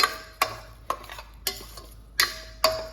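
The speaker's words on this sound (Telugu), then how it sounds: "ఈ పచ్చిమిర్చిని, ఆనియన్ పేస్ట్ని 2-3 నిమిషాలు ఆయిల్లో వేయించుకోవాలి" Green chillies and onion paste fry in oil while a spoon taps the pan at a slow, regular pace, about six sharp clicks over a low, steady sizzle, close but fairly quiet.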